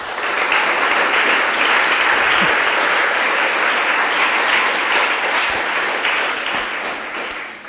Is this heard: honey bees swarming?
no